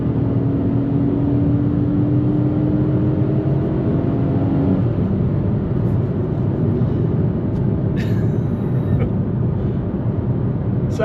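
A 2024 Kia Picanto's small engine holds a steady drone from inside the cabin while cruising at about 50 mph, with road and wind noise under it and brief light knocks near the end.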